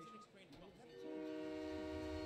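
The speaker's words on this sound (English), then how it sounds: "I hear a train because of this fucking audio log in my head." Train rumble with a sustained horn-like tone from an in-game audio log in Halo 3: ODST, starting faint under a voice and swelling into a steady, fairly loud drone with clear harmonic pitch.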